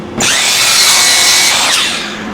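A power saw cuts through wooden shelf front pieces, a loud, steady whining cut of about two seconds that starts abruptly and tapers slightly toward the end, with no talking.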